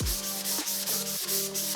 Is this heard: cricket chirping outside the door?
no